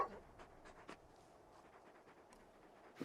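A big dog in Final Fantasy XVI pants softly in short, quick breaths, faint and close, with a louder burst at the very end.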